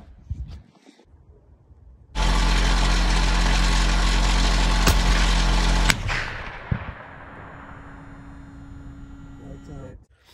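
A .375 CheyTac M200 sniper rifle fires at a running engine downrange, a loud sharp report cutting into a roaring burst of engine noise. The noise then drops to a lower steady running hum before cutting out.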